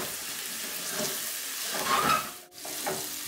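Turmeric-and-salt masala being stirred and fried in a kadai, a steady sizzle with scraping stir sounds up close, swelling briefly before a short pause and then resuming.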